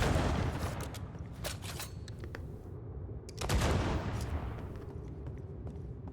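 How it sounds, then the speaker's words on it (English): Gunfire at a chain in Banishers comes as a few sharp, loud bursts with rumbling decay, the strongest around the middle, separated by quieter stretches of low game ambience. "I'm aware that I have to shoot the chain"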